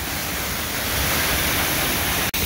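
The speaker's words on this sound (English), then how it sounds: "Here's a little better viewpoint of the waterfall." Steady roar of a waterfall beside a walkway in New Zealand, a dense, loud, unbroken rush of falling water that fills the whole clip.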